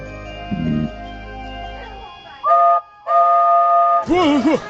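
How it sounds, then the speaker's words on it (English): A steam locomotive whistle from Thomas & Friends blows in several loud, tonal blasts with short gaps, the last one wavering in pitch, after a brief rumble and faint background sounds. "Blowing your whistle next to someone who's sleeping does tend to have that effect"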